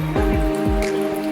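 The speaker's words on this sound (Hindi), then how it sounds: "बारिश आ गई है, बारिश आने की वजह से सब कुछ बंद हो गया" Rain falling and dripping onto surfaces at a roadside tea stop in Chopta, a steady patter of close drops with a few distinct plinks through the short stretch.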